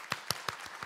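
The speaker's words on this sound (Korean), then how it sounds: "박수." Brief applause in a church congregation welcoming a newly registered member during a Sunday morning service, a few separate claps spaced out, faint and sparse.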